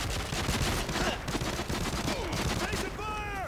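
Gunfire from the Call of Duty: Modern Warfare 3 game on Wii sounds as dense, continuous bursts of shots mixed with game effects and a tone that rises and falls, loud and busy throughout.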